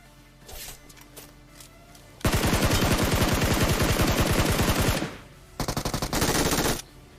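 Automatic gunfire in the mobile battle royale game BGMI: a loud, close, rapid sustained burst of about three seconds, then a brief pause and a second shorter burst, with quieter game sounds before.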